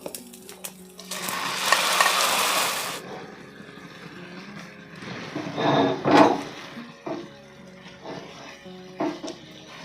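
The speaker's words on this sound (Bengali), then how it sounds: "এবার নেড়েচেড়ে মশলার সঙ্গে সুন্দর করে মিশিয়ে নেব" Marinated cauliflower tossed into hot oil with fried spice paste, a loud hiss of sizzling followed by scraping stirs of a spatula in the pan, with bursts of frying noise and clunks.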